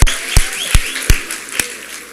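A handful of sharp claps land at a slow, even pace over a murmuring room background.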